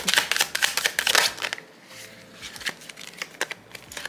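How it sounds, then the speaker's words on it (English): Tarot cards are shuffled close up, giving a crisp, papery riffling and crinkling that comes in dense bursts at first, then thins to scattered softer rustles. "It's hard for me to shuffle for some reason."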